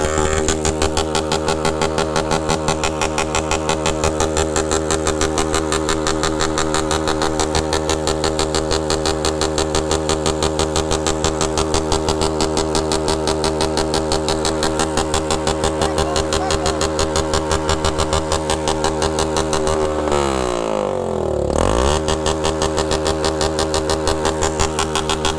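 Honda Bros 160 motorcycle engine running hard and steady, a loud close buzzing drone held for a long stretch, with a brief dip and surge in revs near the end.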